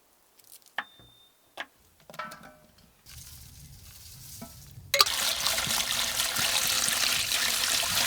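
Water pours into a pot of bones for bone broth, soft clinks and taps at first, then a steady, loud rushing trickle filling the second half.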